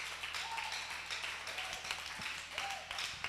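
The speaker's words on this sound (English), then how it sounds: "So please, a round of applause to our judges." Steady, moderate clapping from a seminar audience honoring the judges at a youth business event, continuous hand claps filling a room at low-to-medium level.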